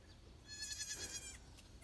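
A small goat on a mountain lets out one clear, wavering bleat lasting under a second, fairly near, over a quiet outdoor background.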